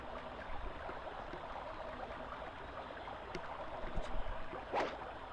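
Flowing water in the Wii game Barnyard, a steady rushing wash that fills the whole clip at moderate level, with a few faint clicks and one brief brighter splash near the end.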